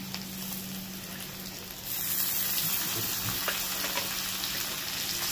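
Green chilli paste hits hot oil with garlic in the pan for a chicken curry, starting a loud, steady frying hiss after a quieter start, then sizzling close up and continuously with faint stirring.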